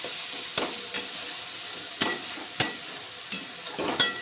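Spices and chopped green chili fry in a pan, a low background sizzle punctuated by sharp spatula scrapes and stirring knocks at uneven intervals, close by with no voices.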